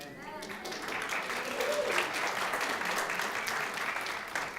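A church congregation applauds during a Sunday service, a steady, sustained wash of clapping throughout, with a voice speaking over it.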